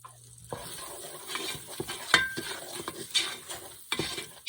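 Garlic with salt and pepper sizzles in olive oil in a pan, a steady close frying hiss broken by several sharper scrapes and stirs of a utensil, with no voices.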